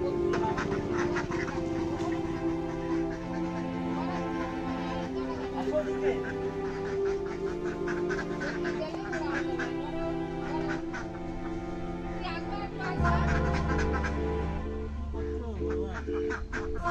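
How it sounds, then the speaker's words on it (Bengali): Ducks quack repeatedly during a village duck-catching competition in Memari, Burdwan, with people talking and calling out over a busy, continuous stretch of noise. "হাঁস ধরা কম্পিটিশন চলছে।"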